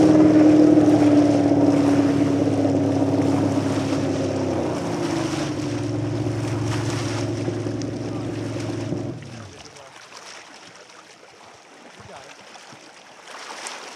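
Racing boat engines roar loudly and steadily at the start of a Thanksgiving regatta race, a droning growl that shifts pitch before cutting off abruptly, leaving quieter outdoor ambience.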